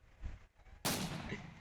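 Video game gunfire erupts as one sudden loud burst of shots after a low, muffled rumble, then sustains in a dense, close, crackling roar until the end.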